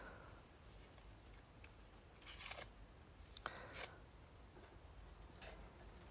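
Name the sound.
tearing up cardboard and paper for kindling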